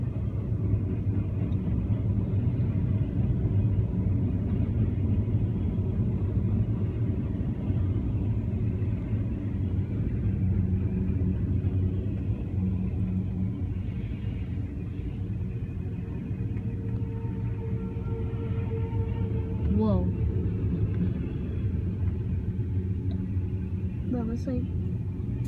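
A Union Pacific freight train carrying oil rolls past at a street crossing, a loud, continuous low rumble that holds steady throughout with a faint squeal near the end.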